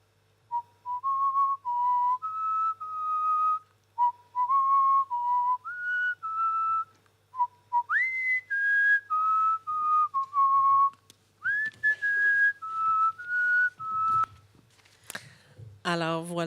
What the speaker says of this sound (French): On va tous siffloter la même ritournelle